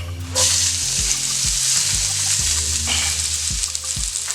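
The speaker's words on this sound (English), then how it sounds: "I'm going to add a little bit more vegetable oil to the skillet. And we're going to add in our onion." Chopped onion hisses and sizzles steadily in hot vegetable oil in a skillet, with a loud, continuous fry broken by occasional scraping stirs, close up.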